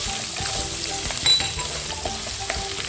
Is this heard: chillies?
yes